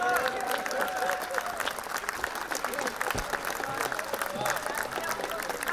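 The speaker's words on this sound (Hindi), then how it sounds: "वो तालियां बजाए, स्टैंडिंग ओवेशन देना चाहते हैं गुलजार साहब को" A standing ovation at a mushaira poetry gathering honoring Gulzar: broad, sustained clapping from a large audience with crowd murmur, a few faint voices and brief calls mixed in.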